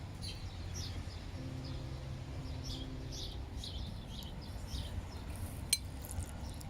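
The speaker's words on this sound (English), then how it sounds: "And hear the birds chirping as well." Several small birds chirp and twitter in short bursts outdoors, fairly faint over a low background hum, with a brief sharp click near the end.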